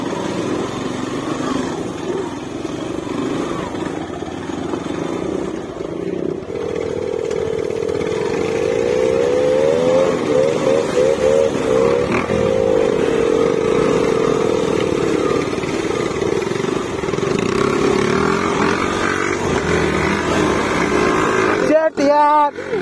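A KTM RC 390 motorcycle ridden hard off-road gives a continuous buzzing engine drone that rises and falls with the throttle, with clattering and bumps throughout and a brief noisy burst near the end.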